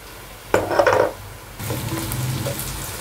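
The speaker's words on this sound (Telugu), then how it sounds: "ఇవి కూడా ఆయిల్లో ఫ్రై కావాలి" Sliced onions and green chillies with salt, frying in oil for mutton curry: a burst of clatter and sizzle as they are stirred, a pause, then a steady frying crackle. No one talks.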